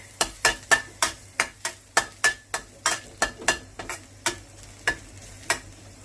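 Garlic is stir-fried in a well-used, blackened wok. A metal spatula scrapes and taps in a quick, steady rhythm of about fifteen sharp strokes, close and loud over a soft sizzle, with no speech.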